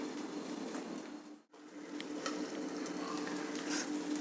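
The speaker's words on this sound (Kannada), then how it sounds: "ಎಣ್ಣೆ ಹಾಕ್ತಾ ಇದ್ದೀನಿ ಈಗ ಮುಚ್ಚಿಟ್ಟು ಒಂದು ಐದು ನಿಮಿಷ ಬೇಯಕ್ಕೆ ಬಿಡ್ತಾ ಇದ್ದೀನಿ" Uttapam made from leftover rice frying in oil in a covered pan, a steady soft sizzle with faint crackles and pops, briefly cut off for an instant before resuming, no one speaking.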